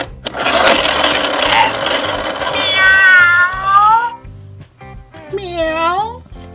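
A recorded cat meows twice from a Fisher-Price See 'n Say The Farmer Says toy, a long wavering meow followed by a shorter one, over a busy background of music and noise.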